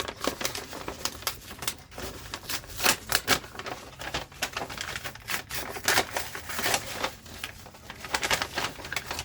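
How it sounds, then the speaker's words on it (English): Paper being cut for a Starbucks-themed junk journal, heard as a series of close, crisp snipping and rustling sounds in irregular bursts, fairly quiet and with no talking. "So I'm going to cut this side."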